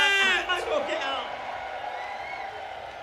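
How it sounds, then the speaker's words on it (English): A cabaret audience at Brighton Pride 2019 cheers and whoops with scattered clapping, loud at first and then settling into a steady murmur of noise. "Take some applause."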